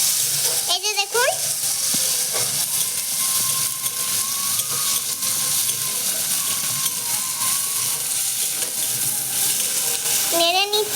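Chopped tomatoes sizzle and fry in a pan over a village cooking fire while a utensil scrapes and stirs them in short bursts near the start and end, with steady frying hiss between.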